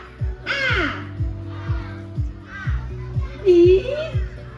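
Several children loudly imitate a crow's caw together at an outdoor forest-themed performance, harmonic voiced caws rising and falling in short bursts over a steady rhythmic thumping beat.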